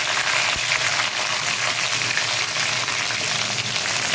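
Long-cut tomatoes fry in a pan with browned onion and garlic, giving off a loud, dense, continuous sizzle with an occasional faint clack of the spoon.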